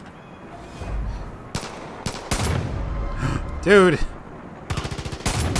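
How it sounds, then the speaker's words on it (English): Far Cry 5 shotgun fire comes as sharp, loud blasts scattered through the clip, with rapid bursts of gunfire near the end, and a man's brief exclamation in between. "Oh my god, this shotgun is a crazy beast."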